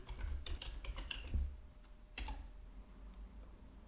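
A short flurry of keystrokes on a computer keyboard, quick irregular clicks at close range with a brief pause, then a few final taps, quiet and without speech.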